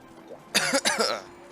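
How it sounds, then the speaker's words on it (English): A man with a sore throat coughs twice in quick succession, close and loud, against a quiet room background. "I might end up coughing to myself every now and again."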